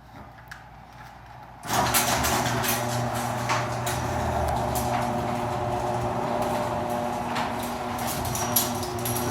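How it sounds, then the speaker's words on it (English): A 2007 Chamberlain Access Master half-horsepower chain-drive garage door opener on an old wooden door starts after a second and a half of quiet, then runs with a steady loud mechanical hum and rattle. "we have a Chamberlain Access Master half horsepower chain drive"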